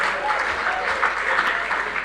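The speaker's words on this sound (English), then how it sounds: "Please, can we give him another round of applause" Brief audience applause rises for a speaker at an international symposium on countering organized crime in Africa, an even patter of clapping hands lasting about two seconds.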